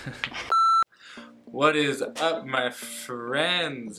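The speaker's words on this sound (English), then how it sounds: "That's my phone." Short electronic tone from a mobile phone, a single steady beep lasting about a third of a second, close and loud, followed by someone talking.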